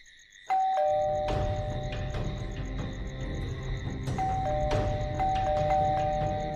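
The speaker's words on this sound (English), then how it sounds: "came there with something to eat for Shikha, just when someone rang the bell" A ding-dong doorbell rings twice in a cartoon horror story, each bright chime ringing out clearly and sustaining over a low ambient background, with no talking.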